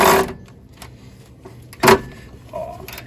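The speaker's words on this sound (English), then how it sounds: "Let's see if our little ratchet friend can do this." A small ratchet works a bolt during a K-frame swap on a Rampage, with short, sharp buzzing bursts of its motor separated by quiet gaps, close by.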